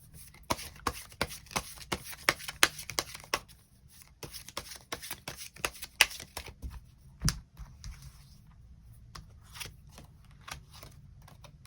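Tarot cards being shuffled and drawn, heard as crisp, close, irregular riffling snaps and light taps that come in bursts and then thin out, with no voice over them.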